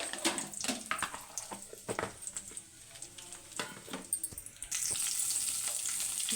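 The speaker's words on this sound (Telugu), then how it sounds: "ఇందులోనే కరివేపాకు వేయించి చిటపట్లాడాలి" Curry leaves crackle in hot oil alongside tempering seeds and turmeric, with sharp scattered pops over a soft hiss, swelling into a louder, steady sizzle near the end.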